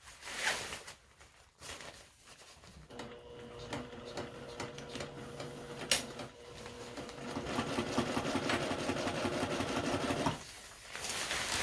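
A sewing machine stitches tent fabric, running over a gear pocket on a DIY Kensho 2 single-wall tent, in a continuous mechanical whir with small stops and starts that grows louder midway and pauses briefly near the end.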